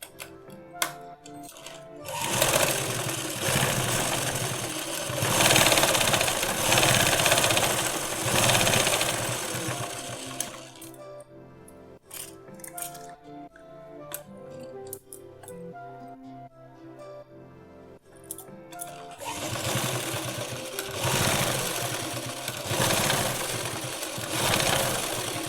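A sewing machine runs in fast, steady bursts while stitching elastic into the waistband of sharara pants, close and loud, with a pause of slower, lighter stitching in the middle.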